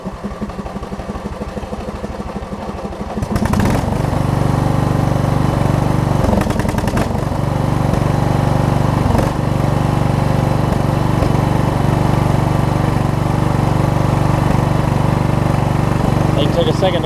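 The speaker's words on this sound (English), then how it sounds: "So let me crank it up." A Craftsman LT1000 riding lawn mower cranks briefly and then its engine catches, running loud and steady at a constant idle-like drone for the rest of the stretch.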